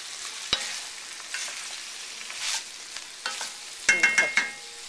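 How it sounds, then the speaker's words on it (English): Bacon, celery, onions and potato cook in a pot with a faint, steady sizzle, broken by a few sharp utensil knocks and clinks against the pot, most of them near the end. "So the celery, onions, potato, and bacon are cooking away."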